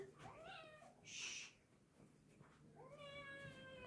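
A cat meows twice, a drawn-out rising cry followed later by a longer wavering meow, with a brief hiss of noise between them.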